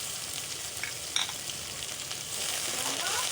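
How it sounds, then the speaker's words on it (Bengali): Spice paste fries in bubbling oil for a goat meat curry, giving a close, continuous sizzle and crackle with a brief stirring scrape, the sizzling growing louder toward the end. "আর দেখুন তেলটিও ফুটছে।"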